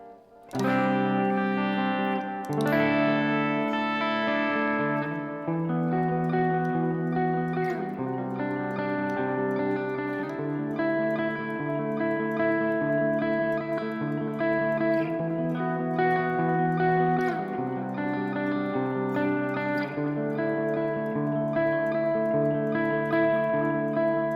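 Clean electric guitar chords through a Marshall JCM800 amp plug-in ring out, washed in shimmering chorus, reverb and echo that give a spacious, floating sound, playing continuously without any voices.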